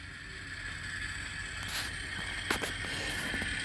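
An H.O. scale Amtrak E-8 model diesel locomotive reversing, with a steady mechanical whir and faint creaks and clicks from the small motor and wheels, close and quiet, no voices.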